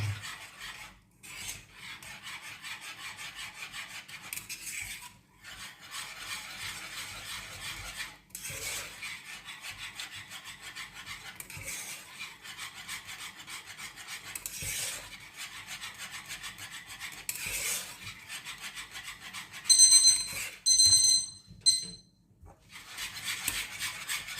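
A whisk scrapes steadily against a pan as lemon curd is stirred with 50 grams of butter, a continuous close rasping rub with brief pauses, and a few lighter metallic clinks near the end.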